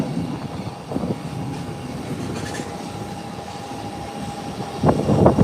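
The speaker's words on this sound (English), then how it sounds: "And this aircraft is up already." A jet aircraft taking off rumbles in the distance, a low, steady roar that swells louder toward the end.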